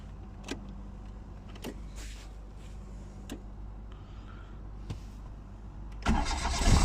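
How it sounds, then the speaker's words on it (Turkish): A Renault R9 Broadway car's engine starts after several days of not running: scattered clicks and faint mechanical sounds, then a loud cranking surge near the end as the engine catches, heard up close with no talking. "Sonra tabii marş yapalım."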